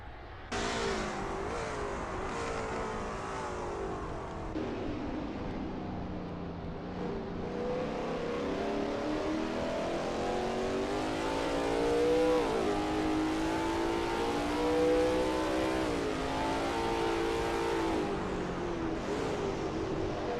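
A Lola T70 MkII Spyder race car at Riverside in a racing game, its engine revving steadily and loudly through a run of S-bends, pitch rising and falling with each shift and corner, with no talking.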